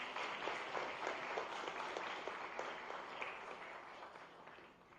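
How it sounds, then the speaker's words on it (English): Audience applause at a formal MoU signing ceremony in Gandhinagar, a steady, sustained wash of many hands clapping from a sizable crowd that slowly fades toward the end. "Please give them a round of applause."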